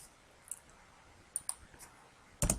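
A computer keyboard clicks lightly a few times, then the Enter key is struck firmly near the end, a crisp close tap above a quiet room.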